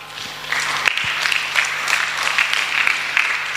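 A congregation at a Sunday church service claps together in a steady, lively burst of applause, close and fairly loud, with no speech over it.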